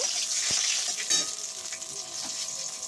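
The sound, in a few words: stirring food frying in a pan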